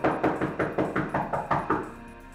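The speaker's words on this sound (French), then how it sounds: "on entendit quelqu'un frapper à la porte" Knocking on a door, about ten rapid, evenly spaced raps in a steady run, close and fairly loud with no voices over it.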